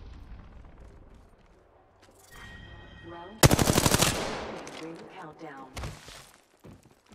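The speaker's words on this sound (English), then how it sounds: "Shots fired and they're hitting me." Automatic gunfire in the video game Apex Legends on PS5: a loud, rapid burst of shots in the middle, with scattered single impacts and game sounds before and after.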